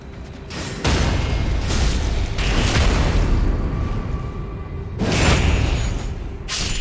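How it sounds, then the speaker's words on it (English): PK Fire attack in a video game, heard as loud booming, crackling bursts: one burst starts near one second and holds, and a second surges around five seconds, with a mechanical rumble underneath and no talk. "PK fire."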